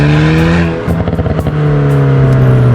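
An Alpine A110 sports car pulls away loudly up close, its engine note rising and pulsing through a gearshift before settling into a strong steady drone.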